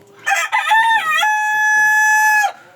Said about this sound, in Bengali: আর একটা মোরগে খুব বেশি ডাকাডাকি করতেছে,